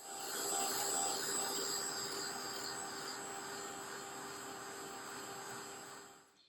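An electric heat tool drying paint on a book page: a steady, loud blowing whine with a faint tonal hum, running continuously close by before cutting off at the end.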